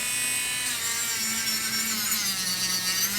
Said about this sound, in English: what you're gonna do with your e-file is do not stay in one area too long